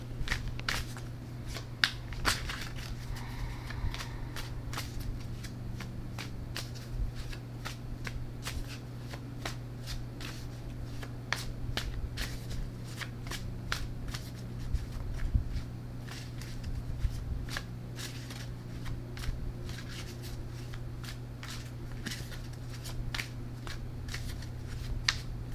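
A deck of tarot or oracle cards being shuffled over and over in quick, soft riffling bursts, close and quiet against a low steady hum.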